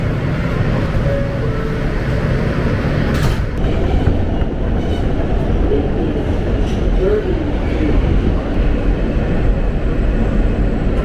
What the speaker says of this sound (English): This is Church Avenue bound G train.